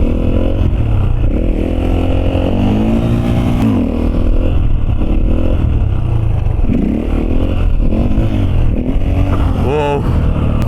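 A Husqvarna FE450 four-stroke dirt bike engine revs up and down loudly and close, with repeated throttle blips and rising and falling pitch throughout.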